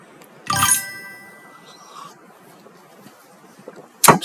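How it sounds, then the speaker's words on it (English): A bright metallic ding rings out near the start, its tone lingering briefly, followed by a second sharp ding at the very end, both standing out against near silence. "what that dinging sound is"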